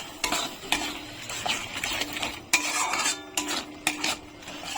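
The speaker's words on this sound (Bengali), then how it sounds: "এখন মশলাটাকে আবার ভালো করে কষিয়ে নেবো" Spice paste with a little water and sugar stirred and fried in a pan for Kashmiri aloo dum: repeated metallic scrapes and clacks of a spatula against the pan over a soft, steady sizzle.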